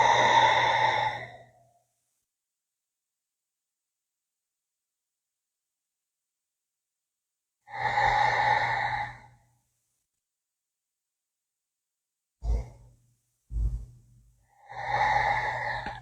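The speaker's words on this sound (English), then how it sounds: "giving it some big breaths here" Slow, deep breaths during a gentle hatha yoga pose on a mat, several long audible exhalations separated by silence, with a couple of short sniffs before the last breath.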